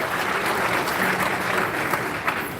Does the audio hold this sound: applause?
yes